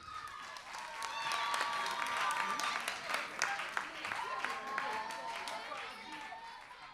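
Audience applause for a finalist named at a French-language TV news presentation contest: a sustained wash of dense clapping lasting several seconds, with a voice speaking over it.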